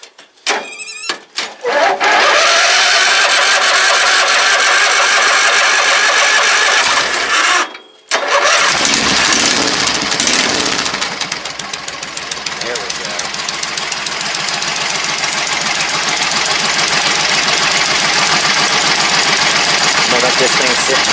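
A homemade vehicle engine cranks, catches and roars to life, briefly cuts out, then settles into a loud, steady rumbling idle heard up close.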